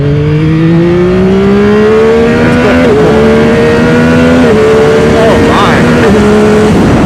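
A 2025 Yamaha R9 motorcycle engine pulls hard and loud, its tone climbing steadily through the gears with three quick dips at each shift, a strong rising howl heard close up from the rider's seat.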